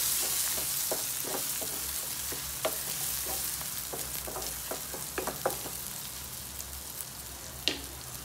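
Sliced green chillies and curry leaves fry in hot oil, a close, steady sizzle broken by scattered crackles and pops and a few stirring taps, with no speech.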